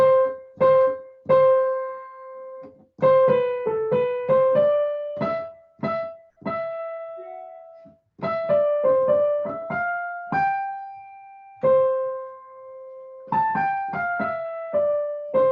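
A piano plays a simple duet melody line with bright separated notes and brief pauses between phrases, close and clear with no talking.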